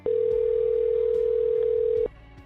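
A steady telephone dial tone hums loudly on a call line for about two seconds, then cuts off abruptly, with faint clicks around it and no talking.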